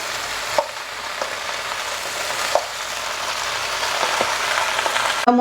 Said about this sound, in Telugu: ఇంకొంచెం సేపు వేయించితే బాగుంటుంది.